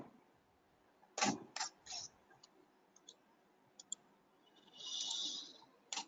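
Keys click on a computer keyboard while Python code is typed: a short quick burst, then scattered single taps and a brief rustle, quiet and close with no voice.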